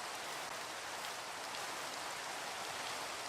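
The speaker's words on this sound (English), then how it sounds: "Rain makes it a bit hard to see where I'm going." Steady rain pours down in a Minecraft-style Centricraft modpack world, a dense, even hiss that holds at a constant level throughout without any breaks or talk.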